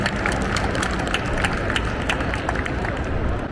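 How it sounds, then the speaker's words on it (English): Audience applause for award nominees at a snowsport coaching awards ceremony, a steady dense wash of clapping with crowd noise, even and sustained throughout. "A big round of applause for all the nominees there."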